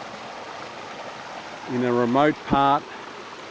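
A waterfall on the Cawleys Road Trail in the Garawarra State Conservation Area near Helensburgh, Wollongong, gives a steady, moderate rush of falling water that runs throughout, with someone talking briefly over it near the end.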